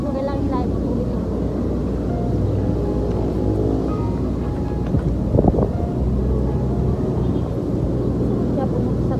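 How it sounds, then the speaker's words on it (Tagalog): Strong wind buffets the microphone outdoors, a steady loud roaring rumble that continues throughout, with a brief louder gust in the middle. "sobrang lakas ng hangin pa"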